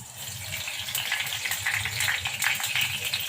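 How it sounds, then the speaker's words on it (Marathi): Cumin and mustard seeds crackle and sizzle in hot oil in a pan, a steady bright hiss with quick popping throughout, close and fairly loud. "तेल टाकून का थोडं जिरे मोहरी टाकून घ्यायचं"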